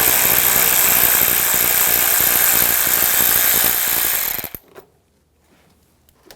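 Rapid ratcheting whir from a ratchet with a 10mm socket backing out bolts on a 2009-2013 BMW 328i xDrive 3.0L I6, loud and continuous for about four seconds before cutting off into near silence.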